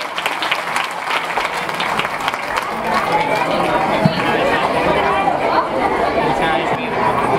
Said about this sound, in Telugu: ఒకసారి అడిగే చప్పట్లు కొట్టండి